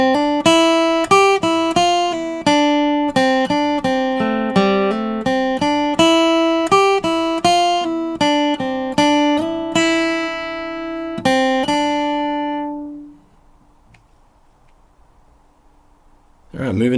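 A flatpicked acoustic guitar plays four measures of the bluegrass fiddle tune Over the Waterfall, starting on two pickup notes, in a brisk, evenly picked melody that ends on a ringing chord and fades. A voice starts to speak at the very end.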